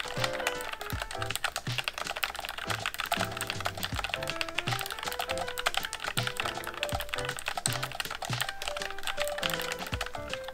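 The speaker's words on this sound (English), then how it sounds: "It's wireless and uses these low-profile, quiet tactile switches." Fast, continuous typing on a wireless low-profile keyboard with quiet tactile switches, the soft key clicks and thunks following a dense, even rhythm close to the listener.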